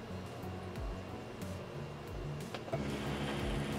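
3D printer stepper motors driven under manual control, giving a low buzzing, whirring hum with repeated pitched tonal steps as the axes move, steady and close with no speech.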